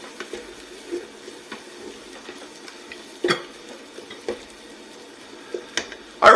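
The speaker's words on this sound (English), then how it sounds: "And we're going to stir that in." A spoon stirring wine into cream of mushroom soup in a pot, with soft scraping and wet swishes broken by a few sharper clinks against the pot, close and fairly quiet, with no talking.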